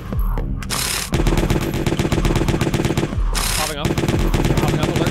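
Rapid automatic gunfire from a low-tier weapon in an online shooter game, loud and dense bursts with a brief gap around the one-second mark and a short pause after three seconds before the firing resumes.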